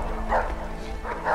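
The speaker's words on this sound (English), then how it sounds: "How did you get overpowered by a dog? Shit. Damn it. It's a Doberman." A Doberman barking in the video game A Way Out, two short barks about a second apart over a low background hum.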